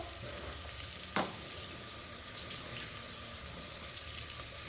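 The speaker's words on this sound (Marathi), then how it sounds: "आता कांदा छान पैकी असा लालसर परतून घेऊ त्यातच आपण मीठ टाकून घेणार आहे" Onions sautéing with salt in a pan for Maharashtrian masale bhaat, a soft, even sizzle throughout with one brief clink of a utensil early on.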